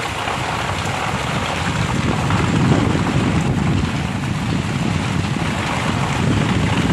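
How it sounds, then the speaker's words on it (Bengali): Heavy rain with big drops pours down outside a home in a steady, loud, unbroken wash of hiss and patter, with gusts of wind and no voices. "কত বড় বড় বৃষ্টির ফোঁটা পড়ে সব"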